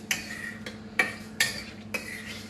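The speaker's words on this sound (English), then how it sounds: "So just give them a stir with your garlic and your butter." Scallops being stirred with garlic and butter in a pan, with four distinct metallic clinks of a utensil against the pan at uneven intervals over a quiet sizzle, close up.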